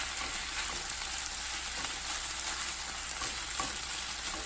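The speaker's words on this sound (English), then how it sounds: "we're going to go ahead and add our pasilla chilies, poblano chilies, however you know them" Pasilla and poblano chilies hitting a pan of cooked chicken, giving a steady, close, bright sizzle of frying that holds evenly throughout, with faint stirring scrapes underneath.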